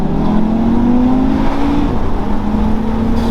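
An Audi TT RS's five-cylinder turbo engine pulls hard under acceleration, its steady rising drone climbing in pitch before a brief gear change, then resuming, heard from inside the car with no talking.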